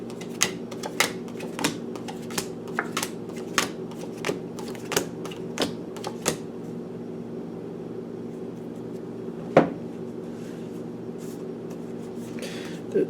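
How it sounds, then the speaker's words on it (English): Tarot cards being shuffled, with a run of sharp flicking snaps in the first six seconds, one louder slap near ten seconds and another at the end, over a steady low hum. "Cards are just pushing out all over the place."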